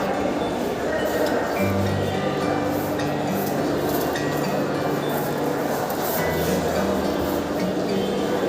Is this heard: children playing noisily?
no